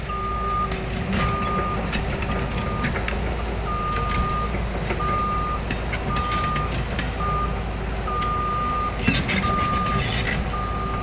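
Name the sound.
excavator machine reversing beeps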